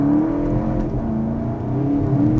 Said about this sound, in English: I should probably turn off traction, because it's just gonna spin these tires